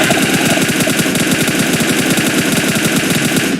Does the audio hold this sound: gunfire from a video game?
yes